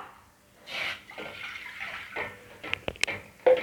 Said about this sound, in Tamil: ஒரு கப்பு தண்ணி சேர்த்துப்போம்